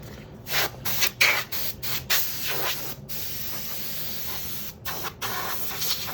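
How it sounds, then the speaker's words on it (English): Canned compressed air blasted onto a motorcycle side fairing for a CBR600F4, several short hissing spray bursts in an irregular rhythm, close and fairly loud, no voices. "So, got some compressed air."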